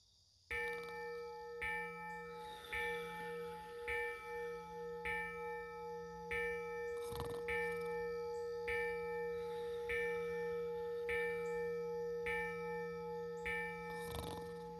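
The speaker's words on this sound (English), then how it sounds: "the bell was again upon the stroke of one" A bell strikes once amid a steady ringing drone of sustained tones, with a few faint repeated ticks or chimes, distant and soft.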